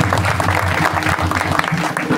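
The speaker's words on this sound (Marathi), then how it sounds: "आमच्या माता होण्यासाठी एका जोऱ्यात टाळ्या वाजवल्या" Applause from an audience at a gathering, continuous loud clapping of many hands throughout, with some crowd murmur mixed in.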